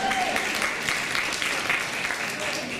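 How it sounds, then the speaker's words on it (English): A crowd at a gathering honoring women applauds Hillary Clinton, steady, full clapping from many hands that holds at an even level throughout, heard from within the room. "You can clap for Hillary."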